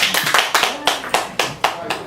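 Several bursts of hand clapping at a New York branch launch press conference, loud and close, with uneven rhythm and some talk mixed in.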